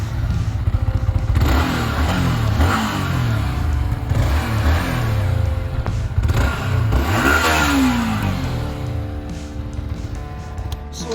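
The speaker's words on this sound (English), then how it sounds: "let me make you hear the exhaust note" A 2021 Yamaha R15 V4 motorcycle revs hard through its exhaust, nearby and loud. Repeated sharp climbs and drops in engine pitch run over a throbbing, bassy idle for about eleven seconds.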